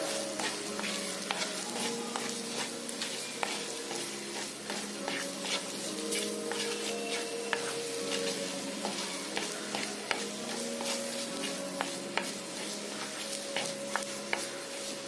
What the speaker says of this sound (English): Saute this for a minute.